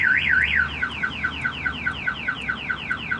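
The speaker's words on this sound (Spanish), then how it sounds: "La alarma se apaga, vuelve a empezar." An Avital car alarm siren sounds loud and close, opening with a rapid warbling wail, then switching to a steady series of repeated falling chirps at an even rhythm, with no talk.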